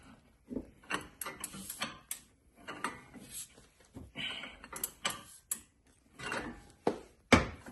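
A ratchet wrench works against a stuck front passenger CV axle on a 2003–2008 Honda Pilot, giving irregular bursts of close clicking and metallic clanks with quiet gaps between, no voices.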